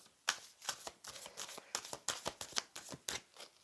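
A deck of cards is shuffled close by in a rapid series of crisp riffles and flicks, quiet overall, with no voices.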